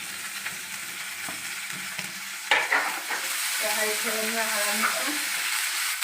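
Ginger, chili, onion and curry leaves sizzle in tempering oil for homemade Chicken 65, a steady frying hiss that surges with a sharp crackle partway through, with stirring scrapes and a faint tonal hum after.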